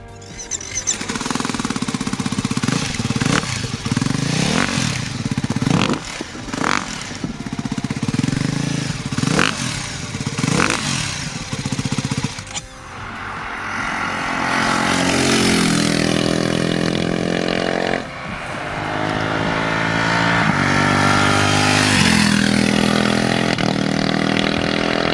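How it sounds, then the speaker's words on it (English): Ducati Hypermotard 698 Mono single-cylinder motorcycle engine, loud and close, with choppy idle pulses giving way to sustained revving that rises and falls, no voices over it. "The Ducati does everything right here except for the sound when stationary"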